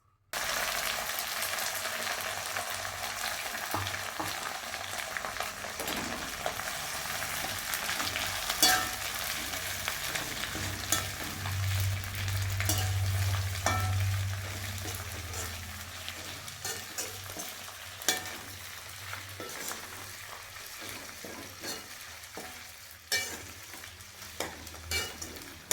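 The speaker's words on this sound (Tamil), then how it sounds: "இப்போ அதே எண்ணெயில் நம்ம கறிவேப்பிலையை போட்டு ஃப்ரை பண்ணி எடுக்கலாம்" Curry leaves frying in oil, a quiet continuous sizzle with faint crackles and occasional scrapes of stirring, close up with no talking.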